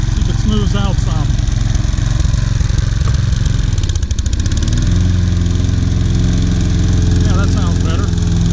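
A Toro Personal Pace Recycler 20333 self-propelled mower with a clogged carburetor runs loudly and close. The engine chugs unevenly, then its tone dips and settles into a steadier drone as the blade engages.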